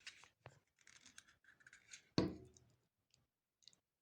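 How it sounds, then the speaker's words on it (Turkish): The small built-in cutter of a Kiwi KS6905 portable bag sealer slices through a plastic bag in one quick, faint cut, preceded by light clicks and handling noises in a quiet room. "Şurada kesicisi var."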